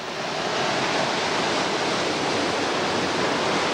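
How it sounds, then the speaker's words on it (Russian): Dense, steady roar of spray and falling water at Victoria Falls in Zimbabwe, a loud broadband rush that swells in and then holds constant throughout, with no voices. "Это не дождь, это идет спрей от водопада оттуда."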